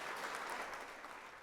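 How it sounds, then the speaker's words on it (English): Canned applause sound effect played during a livestream, a brief dense wash of clapping at low volume, fading slightly over its short length. "So we're going to hit the applause here."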